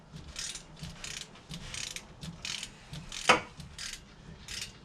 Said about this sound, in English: So let me get a ratchet and take those off.